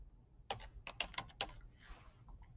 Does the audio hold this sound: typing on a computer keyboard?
yes